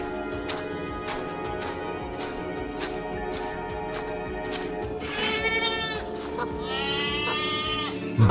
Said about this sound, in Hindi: अगली सुबह मदन बकरा मंडी पहुंचा।